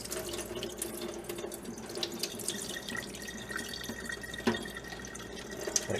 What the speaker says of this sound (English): This one's a fine mesh to strain to catch anything that may come out, but the first pouring should be mostly pulp.